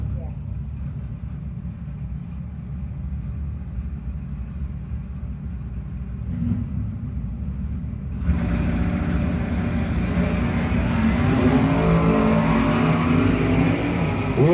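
A Greiner Brothers-sponsored Chevelle drag car at a no-box 660 shootout idles with a low rumble, then launches hard off the line, its engine roaring louder and brighter as revs climb and the car pulls away.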